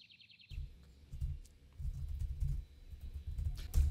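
Rapid clattering keystrokes on a computer keyboard, typed in several quick bursts with short pauses, close and fairly loud, following a brief electronic chirp at the start.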